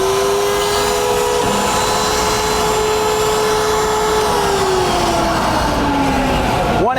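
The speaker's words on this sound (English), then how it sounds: "You've got one switch that turns on both your pocket router and your pilot hole router." A woodworking pocket-hole machine with a combined pocket router and pilot hole router runs steadily, a loud continuous motor whine with shifting pitch as it cuts a pocket, ending with a brief spin-down.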